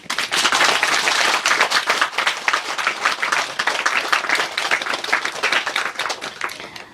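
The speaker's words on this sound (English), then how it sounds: "We applaud them, huh? We should." An audience claps steadily and fairly loudly for several seconds, a dense patter of many hands that tapers slightly toward the end, heard at a 2007 Christmas Day religious gathering in Paris.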